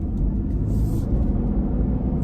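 A 2024 Lexus LBX compact hybrid SUV accelerates to 30, its steady low drivetrain rumble and road noise heard from inside the cabin without talk.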